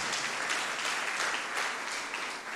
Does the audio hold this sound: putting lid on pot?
no